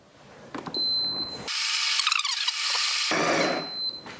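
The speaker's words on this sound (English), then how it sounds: "And we're ready to grind." A Ninja Luxe Café Premier espresso machine grinds coffee beans into its portafilter with a loud, steady whirring roar for about a second and a half. Quieter mechanical clicks and a faint high whine come before and after.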